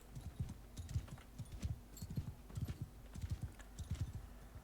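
Horse hooves clip-clop in Mount & Blade II: Bannerlord, a rapid, regular run of close, crisp hoof impacts over faint background ambience.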